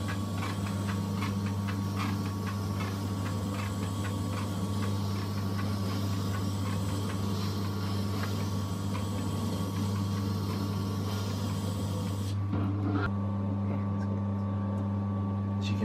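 A Tormek T7 wet sharpening grinder runs with a steady low motor hum and faint ticking, close and continuous, before the tone shifts slightly near the end.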